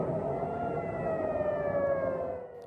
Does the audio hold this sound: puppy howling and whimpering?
no